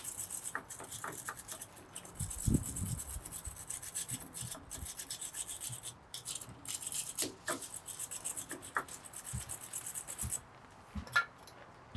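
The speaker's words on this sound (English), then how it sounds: "I then clean the gel residue off" Rust removal gel residue is scrubbed off a steel hammer, heard as close, steady rubbing and brushing strokes with short pauses and a few light taps, without talk.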